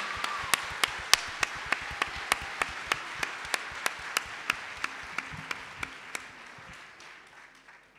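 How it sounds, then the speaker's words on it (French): An audience claps for young singer Malia, steady sharp handclaps in an even rhythm, moderately near and fairly quiet, gradually thinning and fading toward the end with no talk. "merci de l'applaudir"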